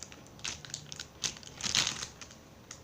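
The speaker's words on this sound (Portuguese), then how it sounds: "Esse aqui é o barulho do plástico." Plastic packaging from slime-making materials crinkles and crunches close up in a quick series of sharp bursts, louder near the middle, with no talking.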